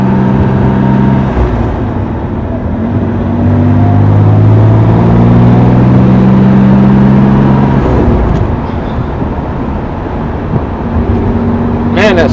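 A 1970 Jaguar XKE roadster driving along, its engine a steady smooth hum with a rise in revs midway, heard close from inside the car with wind and road noise.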